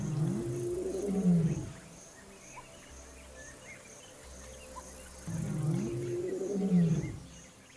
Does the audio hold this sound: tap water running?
no